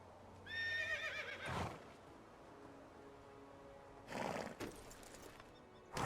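A horse in the game Medieval Dynasty whinnies, a shaky falling neigh near the start. Two short bursts of hoof and gear noise follow, set against a quiet background.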